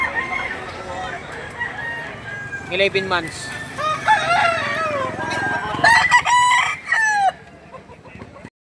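Roosters crow repeatedly at a gamefowl market in Lipa City, Batangas, with several overlapping calls and clucks nearby while someone talks over them.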